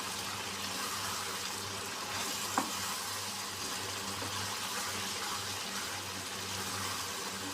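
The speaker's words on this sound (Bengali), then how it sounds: "এবার এটাকে দিয়ে একটু সুন্দর ভালো ভালো ভাজা ভাজা করে" Chicken with bean seeds fries in a pan, producing a steady, dense sizzle that continues without pause, with one faint tap partway through and no talking.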